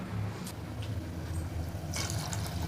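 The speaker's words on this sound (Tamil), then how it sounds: "இதோட இப்போ நம்ம தேவையான அளவு தண்ணி சேர்த்துக்குவோம்." Water is poured into a cooking pot while making Chettinad vengaya kosu, a low steady trickle and splash with a few brighter bursts, close and fairly quiet.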